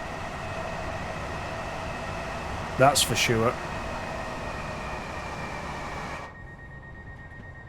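Train driving in Train Sim World 5 on a run toward Gatwick: a steady cab hum with a constant electrical tone under it. A short voice cuts in briefly, and the hum drops to a quieter level near the end.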